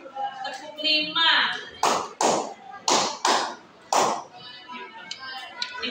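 Five brisk, evenly spaced hand claps ring out near and loud in a teacher-led classroom clapping routine, framed by the teacher's speech before and after.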